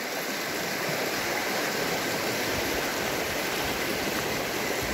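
A river in Malargüe rushes beneath a bridge, a steady broadband roar of flowing water that fills the whole clip at close range with no voices.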